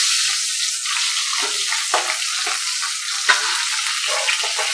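Pointed gourd (potol) fries in hot oil for shukto, a loud, steady, bright sizzle with occasional stirring scrapes and small pops, close by and with no talk.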